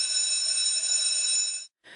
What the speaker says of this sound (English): Oops, the bell is ringing for the next class.